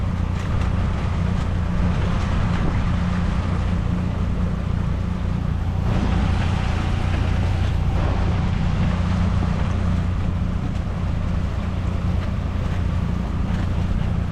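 Engine drone and water wash from an old, restored teal Aristocraft boat passing on the New River in Fort Lauderdale, heard from an inflatable boat with wind buffeting the microphone throughout.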